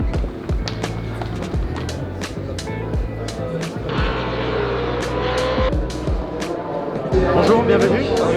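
Historic race cars running on the Monaco Grand Prix street circuit during the historic Grand Prix, a steady roar of engines with repeated passes echoing between buildings, mixed with crowd bustle and people talking nearby.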